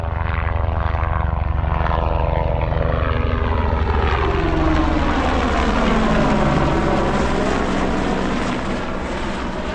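A drone flies overhead during a hot hill walk in Glen Affric, making a loud, continuous buzzing propeller whine whose pitch slowly shifts as it passes, with no talking.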